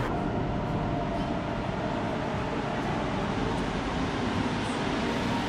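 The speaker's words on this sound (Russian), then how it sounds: "Довольно необычно увидеть состав на резиновых колесах." A Marseille metro train running on rubber tyres gives off a steady, dense rolling roar inside the tunnel. The broad noise holds constant throughout, with faint squeaks and no voices.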